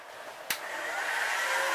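Heat gun warming the case of a Saito 45S model engine so a bearing can be pressed in, a steady close airy blowing hiss that switches on with a click and holds.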